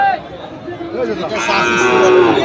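A Sahiwal bull calf moos loudly and at length at a cattle market in Dinajpur, its drawn-out call rising and holding close by over a murmur of background crowd noise.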